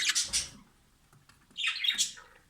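Newly hatched budgerigar chicks squawk in two close bursts of thin, raspy high-pitched calls separated by a brief quiet gap.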